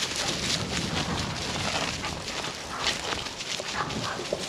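Dogs at a busy daycare yard, with a dense, continuous clamour of overlapping barks and yelps throughout, close and loud, over a noisy outdoor background.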